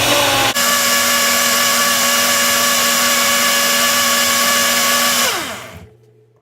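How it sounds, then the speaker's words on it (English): A blender on its smoothie setting mixes a homemade mass gainer shake. It starts abruptly with a loud, steady motor whir that runs for about five seconds, then winds down to silence. "we're gonna turn the smoothie on, or the blender on, and we're just gonna use that smoothie setting"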